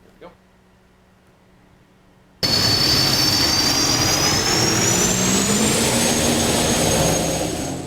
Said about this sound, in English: Roaring engines Friday on the Columbia River.